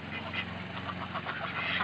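Ducks quack in a quick run of nasal calls, close by and fairly clear, repeating through the whole moment without any talking.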